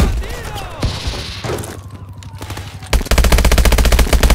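In a Call of Duty Advanced Warfare campaign battle, scattered shots and distant noise give way to a sustained, loud, rapid machine-gun stream in the final second and a half, with shouting voices underneath.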